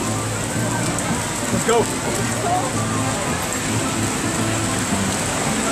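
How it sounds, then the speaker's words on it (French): A heavy rain shower over Paris pours down as a dense, steady hiss of falling water, loud and continuous throughout, with a brief voice speaking once near the start. "Il y a une grosse averse sur Paris."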